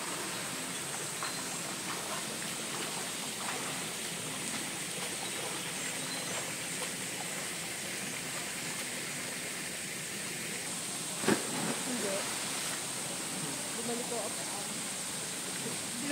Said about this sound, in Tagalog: Doon ka sa waterfall.